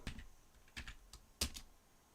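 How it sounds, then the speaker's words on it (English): Fingers tap out a value on a computer keyboard while building a 3D mesh for IMVU, a few sparse, close, crisp keystrokes in small clusters with pauses between them. "So let's see if we can manually type a value."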